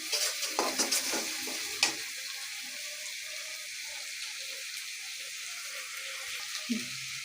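Ginger-garlic paste frying and being stirred in a pan for a rohu fish curry, with a steady sizzle throughout and a few scraping stirs near the start, heard alone without talk.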